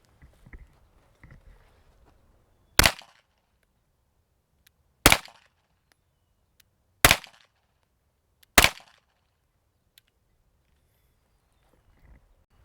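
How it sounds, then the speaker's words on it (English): Four loud, sharp Smith & Wesson M&P 2.0 pistol shots fired with a prototype barrel, spaced a few seconds apart at an even pace, with near silence between them and faint handling noise before. "I'm gonna do 4 rounds with each barrel."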